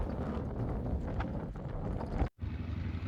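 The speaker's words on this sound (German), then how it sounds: "Es ist furchtbar windig heute" Strong wind in Tozeur, Tunisia, buffets the microphone in a loud, continuous roar with gusty surges and a brief dropout near the end, no voices.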